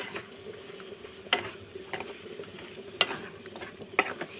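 A spoon stirs banana flower curry with grated coconut in a pan, giving soft continuous scraping with a faint sizzle, broken by three sharper taps of the utensil against the pan.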